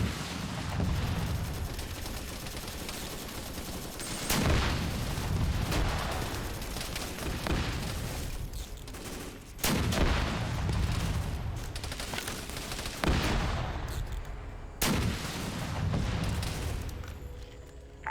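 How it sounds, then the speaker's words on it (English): Repeated anti-tank rounds pound an enemy position in the Vietnam War shooter SOG Nam, heavy booms landing every few seconds over a continuous roar of gunfire and battle noise, loud and dense throughout. "I'm gonna start popping some AT at their position just to spook them"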